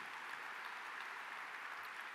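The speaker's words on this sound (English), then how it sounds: "we'd clap for that" Faint, distant applause from a luncheon crowd at a state chamber of commerce event, a soft, steady patter of many hands with no clear individual claps.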